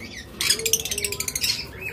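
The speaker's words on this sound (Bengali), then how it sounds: "এটা হলো পাইনাপেল কোনোর" Pineapple conure parrot giving a rapid run of sharp, scratchy squawking chirps, close and fairly loud, with no talk over it.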